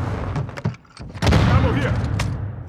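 A Semtex grenade blast in Modern Warfare 2 erupts as a loud, close burst partway through, amid scattered gunshots and a brief lull before the explosion.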